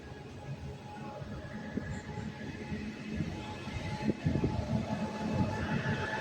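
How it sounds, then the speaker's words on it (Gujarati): A WAG-hauled goods train pulls out of Gandhidham Junction with a continuous rumble of wagons. Rhythmic wheel clatter builds and grows louder toward the end, with faint squeal overtones. "હવે આપણી ટ્રેન ઉપડી રહી છે ગાંધીધામ"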